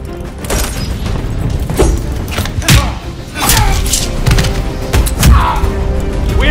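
Heavy booms and thuds from a friendly bombing run in a Call of Duty game, repeated explosions rolling one after another over a dense, loud battle din.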